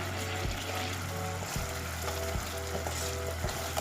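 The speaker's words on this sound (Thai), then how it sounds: "ทีนี้ก็เคี่ยวจนกว่ากะทิแตกมันนะคะ" Coconut milk with green curry paste simmers in a pot until the oil separates, giving a soft, steady bubbling sizzle with faint pops beneath a low background hum.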